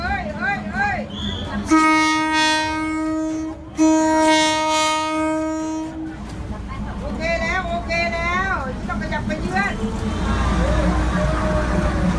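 A train passes slowly through a crowded street market where vendors clear their stalls, its horn blaring in two long loud blasts, then rumbling on amid chatter and shouting voices from the crowd.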